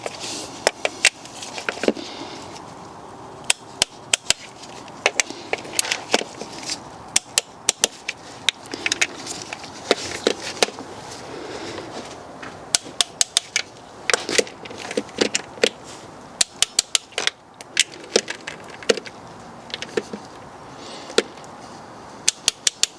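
Nuts being torqued down on a BMW M57 diesel engine during an EGR valve delete: scattered sharp metallic clicks and ratchet snaps in irregular bursts over a quiet workshop background.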